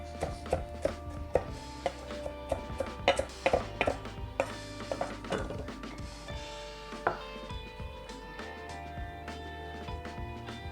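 A knife coarsely chopping fresh cilantro on a board for ranch dressing: a quick run of sharp, close taps in irregular bursts, fairly quiet, with no talking.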